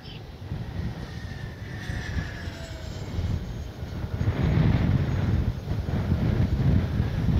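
An RC Corsair warbird model airplane flies overhead in the wind, its engine a faint, steady drone that swells gradually louder toward the end under rumbling wind noise.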